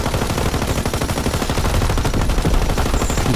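Dense, rapid gunfire in Call of Duty WWII Nazi Zombies on The Darkest Shore map, loud bursts of automatic weapons fire running continuously with no break from start to finish.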